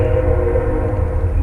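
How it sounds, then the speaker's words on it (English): A passing train rumbles steadily nearby, a loud continuous low roar with a sustained tonal hum on top and no voices. "And of course the train comes right when I'm doing this."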